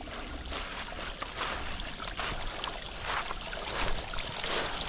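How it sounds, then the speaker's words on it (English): A small waterfall in a rocky creek, a steady, close, full rush of splashing water that holds level throughout with no talking. "Little waterfall."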